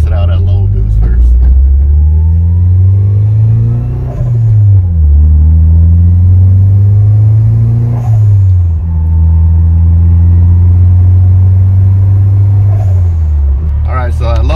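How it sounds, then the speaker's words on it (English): HKS blow off valve on a turbocharged car at low boost, with the engine revving repeatedly in steady pulls and short releases where the valve vents. It is loud and close, with a voice talking over it. "HKS Blow Off Valve. We test it out at low boost first."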